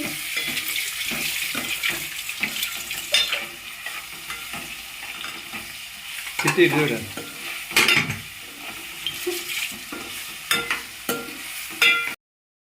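Ginger is stirred into a frying pan for Telangana boti curry, a close crackling sizzle broken by repeated scraping and clinking strokes of a spoon against the pan.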